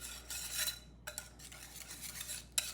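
A plastic kitchen mixing tool stirs low-carb pumpkin pie filling in a bowl, giving soft, repeated scraping and swishing strokes with a few brief gaps and a sharper tap near the end.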